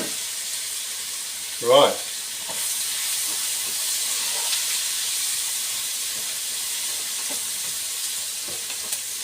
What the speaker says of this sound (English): We're now going to throw in the onions.